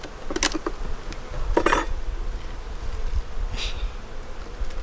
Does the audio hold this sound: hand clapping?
no